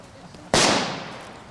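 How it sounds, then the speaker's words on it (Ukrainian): One sudden, powerful detonation at a military survival training centre in Ternove Pole, Ukraine, cracks out of low background noise and decays into a drawn-out rumbling tail. "А далі вибухи."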